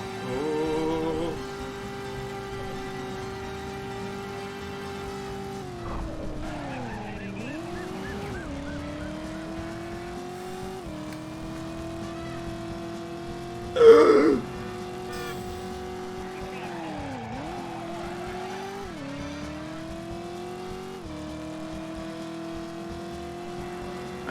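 A supercar in the Driver PS1 video game drives with a steady engine whine that dips and climbs through gear and speed changes, with brief tire skids and a short sharp burst midway.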